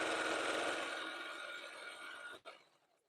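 Sewing machine stitching through fabric tubes for a jelly roll rug, a dense rapid whirring run that fades and stops abruptly, followed by a brief softer trailing rattle; no speech.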